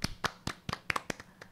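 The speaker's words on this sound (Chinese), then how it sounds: "为这位人鼓掌。" A short burst of hand clapping for someone, about eight quick, crisp claps in an uneven rhythm, close and fairly soft, with no voices.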